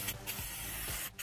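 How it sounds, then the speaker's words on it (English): Aerosol brake cleaner hisses from a can onto the engine of a 1997 Toyota HiAce 4WD Super Custom in a steady, close spray, with two brief bright bursts marking short pauses or nozzle shifts. "Spray everything down with brake cleaner"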